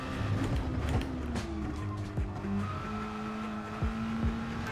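Race car engine in Gran Turismo on the Dragon Trail Seaside circuit, revving up and down with shifting pitch as it rides over curbs through corners, with brief tire squeal; loud and continuous.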